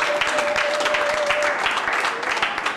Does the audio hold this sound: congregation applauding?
yes